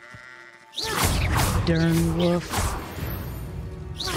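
A sheep bleats loudly and close by in a wavering, drawn-out cry in Hogwarts Legacy, with someone talking over and around it.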